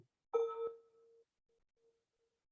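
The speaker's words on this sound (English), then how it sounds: "I only heard the beginning of the bell" A mindfulness bell chimes once with a bright metallic strike, then its tone cuts off quickly and choppily, heard only briefly before fading into near silence.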